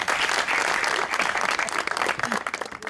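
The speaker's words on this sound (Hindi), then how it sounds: "तालियां" A studio audience at a Pakistani TV comedy talk show breaks into loud, dense applause that holds steady for about three seconds with no talking over it.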